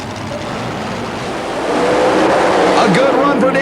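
A supercharged chop-top 1932 Chevy mud racer makes its run, a loud steady engine roar that builds and swells midway, with rising and falling pitch sweeps near the end.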